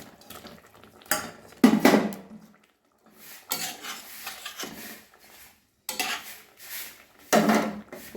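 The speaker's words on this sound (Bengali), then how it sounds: "ঝোল ফুটে এসছে এবার আমি মাছগুলো দিয়ে দিলাম" Snakehead fish pieces going into a pot of boiling curry with coriander and roasted spices, a few bursts of clattering, scraping and splashing separated by quiet pauses, close and moderately loud.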